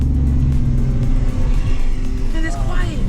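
An Audi S4 Avant's 3.0T engine runs with a steady, deep, close rumble, a voice briefly heard over it.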